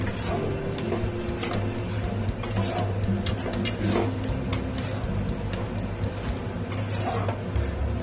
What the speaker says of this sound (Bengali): এবার আস্তে করে এটাকে নাড়তে থাকি।